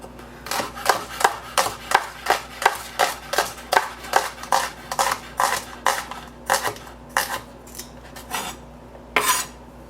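A knife slices shallots on a cutting board in a kitchen, a quick, even run of crisp taps close by that slow and grow sparser toward the end.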